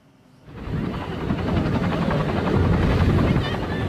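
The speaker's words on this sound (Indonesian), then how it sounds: "Inilah detik-detik jatuhnya helikopter di California Selatan" A helicopter gliding over a beach in Southern California, out of control and striking palm trees, a loud sustained rotor roar that surges in within the first half second and holds steady.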